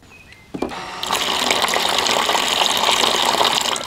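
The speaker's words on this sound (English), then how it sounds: "First, we turn the power onto our water pump." Water pump on a DIY overland camp kitchen switched on, then water gushes from the faucet in a loud, steady, close rush that starts after a click and continues without a break.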